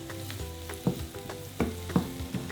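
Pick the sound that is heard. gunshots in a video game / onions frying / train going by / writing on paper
onions frying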